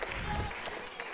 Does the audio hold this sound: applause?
yes